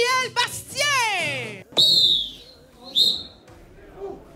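A whistle is blown at a match, giving two bright, piercing blasts that ring and fade, with lively voices and gliding vocal sounds just before them.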